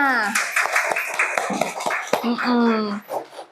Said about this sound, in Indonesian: tepuk tangan buat Diandra